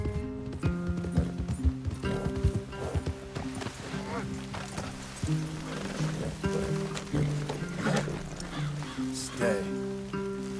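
Horses in Red Dead Redemption II clip-clop over the ground with a busy rhythm of hoofbeats and movement, while game music tones sound and voices talk over the top.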